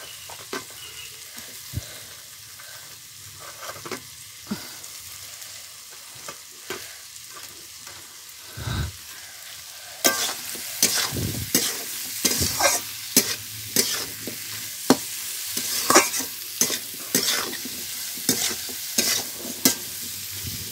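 Capsicum and dry fruits stir-fry in a hot pan: a steady low sizzle carries clicking spatula scrapes that grow louder and busier halfway through as the new ingredients hit the oil, continuous and close with no voices.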